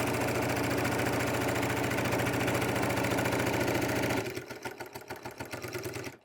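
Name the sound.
sewing machine stitching a straight seam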